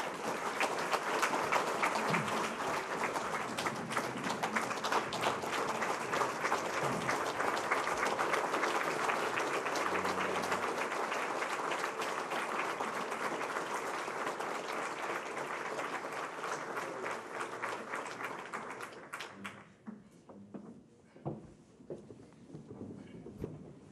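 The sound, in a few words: audience applause at an awards ceremony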